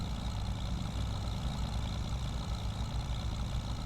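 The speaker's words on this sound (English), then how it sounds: "If the background sounds for the engine's a little loud, I need to know." Tractor engine in Farming Simulator on the Judith Plains, Montana map, working a field: a steady, loud, low rumbling drone that runs unbroken throughout with no talking.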